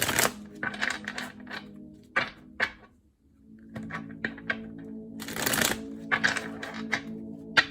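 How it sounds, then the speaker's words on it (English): Tarot cards being shuffled up close in quick riffling bursts, separated by short pauses and a few soft taps and thuds. "as I'm shuffling, before I cut the deck"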